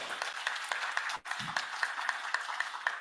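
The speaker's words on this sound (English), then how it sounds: "Give applause for all participants whose articles are selected for this forum." A conference audience applauds selected paper authors at an academic forum, soft and somewhat distant clapping in a steady patter with a brief dip in the middle, no speech over it.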